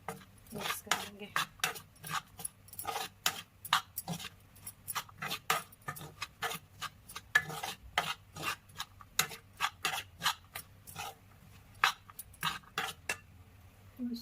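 Kala chana chaat ingredients being mixed in a bowl, a rapid series of close scraping, clinking strokes of a spoon against the bowl, steady and rhythmic, with no voices.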